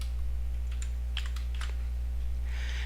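Code typed on a computer keyboard in a few quick irregular bursts of clicking keystrokes, close by, over a steady low electrical hum, no talk.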